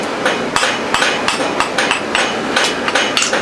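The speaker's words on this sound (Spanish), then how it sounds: "Al principio se le pega más fuerte para que se vaya aplastando, y al último ya son golpes más ligeros para ir definiendo la punta de la pieza." A blacksmith hammers hot iron to forge a point, with a steady run of sharp metallic blows about every third of a second, loud and close over a noisy workshop background.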